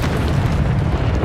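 In Hogwarts Legacy, an Incendio fire spell erupts as a loud, dense roaring burst of flame, a continuous booming whoosh heard up close with no talk.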